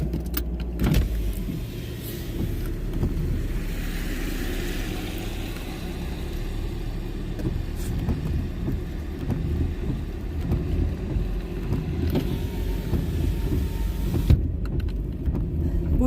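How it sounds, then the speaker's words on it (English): A Toyota Sienna minivan drives along with a steady engine and road rumble and light wind noise. A few faint clicks and bumps sit on top of it, and there is no talking. "Toyota Sienna minivan."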